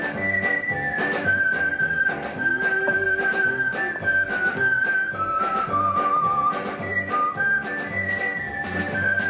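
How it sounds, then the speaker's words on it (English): Music plays from an old radio in a 1976 television program: a continuous tune led by a high, whistle-like melody over soft accompaniment, steady and moderately loud with no talking. "Ooh, this is a wonderful old radio. Sounds just like a new one. Listen to the music."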